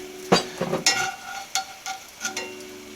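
A taco fries in olive oil in a pan with a soft sizzle, broken by several sharp clinks and scrapes as it is moved and stirred.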